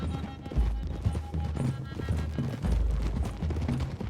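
Several horses galloping in the video game Red Dead Redemption 2, rapid pounding hoofbeats with heavy low thuds and occasional whinnies, rolling on continuously at close range.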